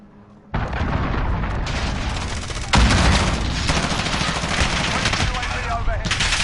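Call of Duty beta gameplay fills the mix with dense, continuous gunfire and explosive booms from a cruise missile strike, starting abruptly after a quiet moment and swelling into a loud blast before the barrage of shots rolls on.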